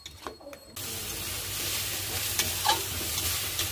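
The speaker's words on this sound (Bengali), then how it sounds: "এখন মশলাটাকে কষিয়ে নেব।" Spices (chilli, bay leaf, cumin powder, salt and turmeric) sizzle in oil as they are stirred and sautéed. Quiet clinks open the clip, then a loud, steady close frying hiss runs throughout, with no talking.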